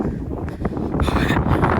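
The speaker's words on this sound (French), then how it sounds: "Le vent." Outdoor wind in Scotland buffets the microphone in loud, steady rumbling gusts with a rushing hiss that swells toward the end, with no talk.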